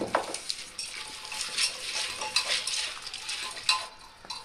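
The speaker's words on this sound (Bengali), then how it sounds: "এবার আমি এগুলোকে ভালো করে মেখে নেব।" Chopped papaya and lentils with turmeric are kneaded by hand in a bowl, giving a continuous close, wet squishing and rustling with occasional small clicks against the dish.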